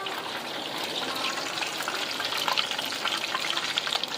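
Pieces of meat for a BBQ recipe sizzle and crackle steadily in hot oil, a close, continuous frying hiss with no talking.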